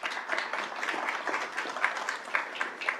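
Soft, fairly distant applause from the audience at a school governing board meeting, honoring students, a steady patter of many hands without talk.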